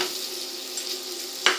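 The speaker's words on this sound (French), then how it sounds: "On fait suer les oignons." Onions sweat with a steady soft sizzling in a saucepan on the heat, with a brief metallic clink of a utensil near the end.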